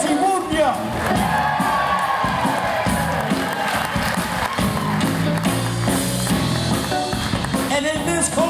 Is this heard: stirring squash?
no